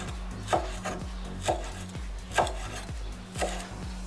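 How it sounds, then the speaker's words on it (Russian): A knife finely chops dill on a cutting board in slow, even strokes, about four distinct thuds roughly a second apart, close and clear. "Так, укроп нарезаем мелко."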